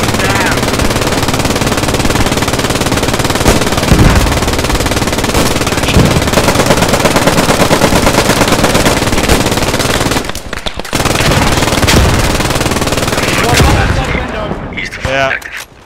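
Machine gun fire in the World War II shooter Post Scriptum, defending the Hotel Wolfheze: loud, sustained rapid bursts and heavy gunfire filling the scene nearly without pause, briefly dropping out before resuming, with players' voices over it.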